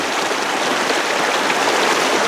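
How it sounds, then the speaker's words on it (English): Rain falling outdoors during a walk through a graveyard, a loud, dense, even hiss of drops that holds steady throughout with no talking. "It's starting to rain, huh?"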